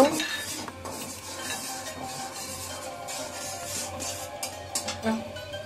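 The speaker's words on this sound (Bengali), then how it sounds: "পেঁয়াজটা একটু লাল লাল করে ভেজে নেব" Onions frying in a pan, stirred with a utensil that clinks and scrapes against the metal, under a steady low sizzle throughout.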